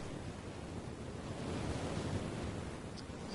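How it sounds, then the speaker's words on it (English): Ocean waves from the video game 999: Nine Hours, Nine Persons, Nine Doors make a steady, soft rushing wash of surf with no talking. "It seems like we got some nice waves going on here"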